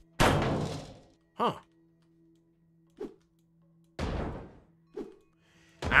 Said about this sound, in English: I'm ripping this thing wide open and we're destroying all of it.